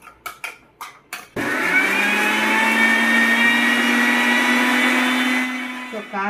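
After a few short rattling taps, a mixer grinder whirs loudly and steadily while grinding onion and chilli into a coarse paste for Kadapa karam dosa, then winds down near the end.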